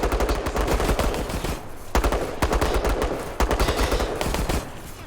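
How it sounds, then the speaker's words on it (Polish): Dense automatic gunfire bursts from the co-op survival horror game Resident Evil: Resistance, loud and close, with rapid rattling volleys broken by brief pauses and sharp restarts across the stretch. "Kto to strzela teraz?"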